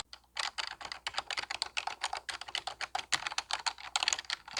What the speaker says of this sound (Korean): 키보드 소리가 퉁퉁거리기는 하지만 소리가 거슬리지는 않았고 타건감은 좋았습니다.